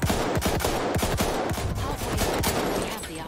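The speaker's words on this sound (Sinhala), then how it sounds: "බර්ස්ට් එකක් වගේ තුවක්කුවක් තියෙන්නේ මන් ළඟ." Rapid bursts of gunfire from a burst-fire weapon in the multiplayer shooter Battlefield 1, with dense overlapping shots at loud, near level and continuous battle noise around them, no speech.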